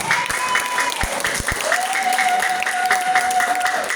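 An audience at a business presentation applauds in a dense, continuous round of clapping, with a sustained electronic tone underneath and a few sharp thumps early on.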